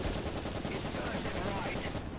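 Tank cannon and machine-gun fire in the War Thunder game, heard as a dense, continuous wash of gunfire and explosions at steady loudness, with game noise filling the whole short stretch.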